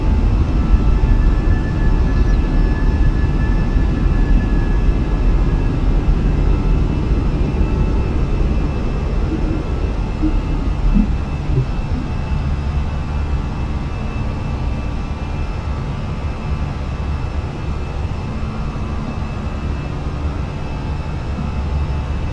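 A Fenix A320 jet takes off and climbs in Microsoft Flight Simulator 2020, with loud, steady engine roar and rumble heard from the cabin, easing slightly over time, plus a thin whine running through.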